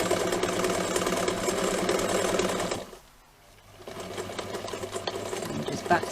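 Sewing machine top stitching a tote seam at a medium stitch length, a steady close whirring run that stops briefly for a second and then resumes with backstitching.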